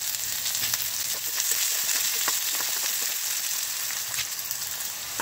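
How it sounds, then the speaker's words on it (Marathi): Food sautés in hot oil in a pan with coriander added, giving a steady, close sizzle with crackles and pops throughout and no talking. "छानपैकी असा परतून घेणार आहे, शिजून घेणार आहे तो"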